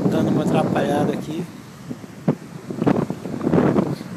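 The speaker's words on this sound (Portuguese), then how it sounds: "começou a entrar um vento agora forte também" Strong wind buffets the microphone on a beach during surfcasting at Barra da Tijuca, a broad low rumble with gusty swells that rises and falls under a man's speech.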